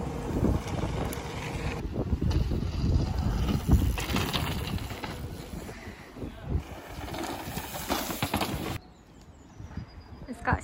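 Strong gusty wind batters the microphone at an outdoor bike park, roaring and buffeting unevenly before dropping off sharply near the end, with voices faintly under it.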